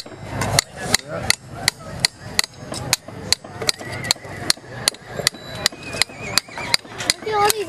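Stone hammers strike at a steady rhythm during a heritage craft demonstration, each sharp blow ringing out close and loud, about two per second, with faint talk in the background.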